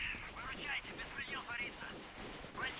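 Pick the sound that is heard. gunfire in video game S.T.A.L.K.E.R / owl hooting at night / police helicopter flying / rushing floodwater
gunfire in video game S.T.A.L.K.E.R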